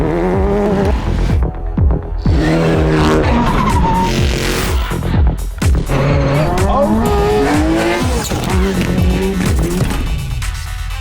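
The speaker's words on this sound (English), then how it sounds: "660 horsepower trophy bug" A 660 horsepower trophy bug race car driving hard on a night rally run, its engine loud and close with revving, rising and falling pitch, shifts and brief tire squeal, continuous throughout with no talk.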